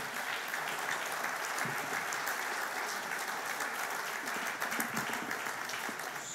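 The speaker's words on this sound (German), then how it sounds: "Ein Beifall für Herrn Kreitz." Sustained applause fills a hall at the Altmark 2022 business award ceremony, greeting last year's prizewinner as he comes up to present, a steady dense clapping from a sizeable audience throughout.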